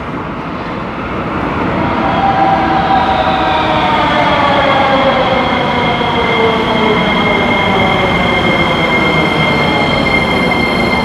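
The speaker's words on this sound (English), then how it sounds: "Let's see what this train is. Looks like a newer train, as expected." A newer metro train in Sofia's underground subway rumbles loudly and steadily, its motors whining in rising and sliding tones as it builds speed, with no voices.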